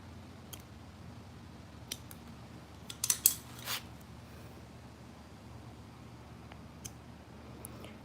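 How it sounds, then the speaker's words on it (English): Scissors snip fishing line at the knot while rigging a rod with a soft plastic bait, giving a few faint, sharp clicks over a low background hum, with no talking. "So let's cut this off by the knot."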